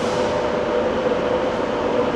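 Train at the Barrow-in-Furness railway station, a steady low rumble and hum of rolling stock heard close and continuous, with no voices.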